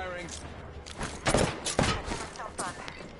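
Gunfire and a burst of shots from the Apex Legends video game on PS4. The shots come in several loud bursts over game sounds, and a player talks over the action.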